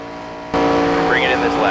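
Race car engine from the NASCAR 25 game roaring loudly through a turn, jumping in level partway in and holding a steady drone with rising and falling pitch sweeps, under commentary-style talk.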